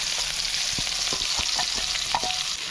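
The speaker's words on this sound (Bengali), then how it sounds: "এখন দিয়ে দিচ্ছি 3টে তেজপাতা, ছিঁড়ে দিচ্ছি, পেঁয়াজ কুচি" Bay leaves and chopped onion sizzle loudly in hot mustard oil in a wok, a continuous frying hiss broken by light scraping taps of a stirring spoon.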